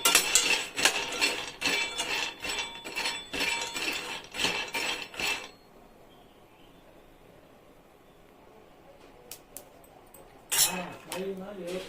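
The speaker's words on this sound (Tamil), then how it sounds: "இது ஒரு 1/4 கிலோ பாதாம் பருப்பு, நிதானமா இது இப்படி வறுத்து எடுத்துக்கலாம்" A quarter kilo of almonds is dry-roasted slowly in a pan and stirred, producing rapid metallic clinks and rattles of nuts against the pan that stop for several seconds before resuming.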